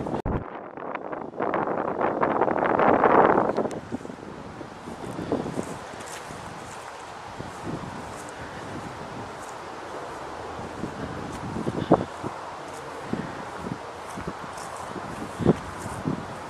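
Wind gusting outdoors on a clear afternoon walk in Pinelawn, New York, with a strong rushing burst early on that eases into a steady low breeze, dotted with faint footsteps and small clicks.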